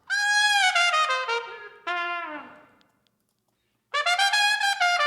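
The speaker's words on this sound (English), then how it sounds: "Then you got the trumpet." Trumpet licks from a horn mix, bright brassy phrases with a falling smear that trails into a second of silence before another loud burst, close and without talk.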